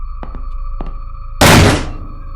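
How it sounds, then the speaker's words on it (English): A door opening in the horror video game Black Rose: a sudden loud, heavy thunk that bursts out of quiet ambient hum after a few faint clicks, then tails off into a rumbling fade. "I only opened up a door"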